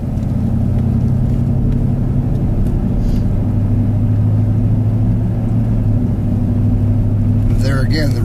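A 4x4 vehicle driving on ice in four-wheel drive high, its engine and tyres giving a steady, loud low rumble from the cabin with a faint voice under it and a brief squeak near the end.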